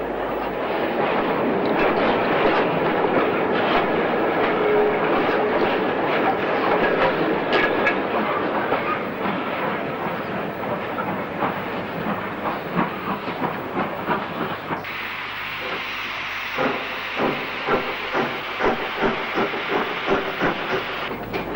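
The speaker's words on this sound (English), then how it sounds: "Oxford's 4951 Penderford Hall backs into the number 3 platform for a late afternoon train to the" A GWR Hall class steam locomotive, 4951 Pendeford Hall, backs slowly into a station platform in the 1960s, with steady hissing steam and rolling wagon noise, then rhythmic clickety-clack beats of wheels over rail joints.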